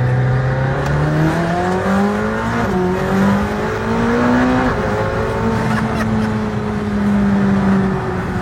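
A McLaren Senna's loud engine roars at full throttle and climbs in pitch through several gear changes, revving hard and close for the whole stretch.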